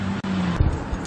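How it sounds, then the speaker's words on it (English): A car alternator with a broken bearing is heard up close through a screwdriver held against it, giving a loud, steady, rough grinding whir with a brief dropout near the start. "that sounds like a broken bearing"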